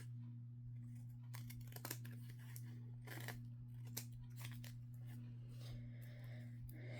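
Scissors snip sparsely while trimming the bottom edge, a few short faint cuts scattered over a steady low electrical hum, close by with no talking.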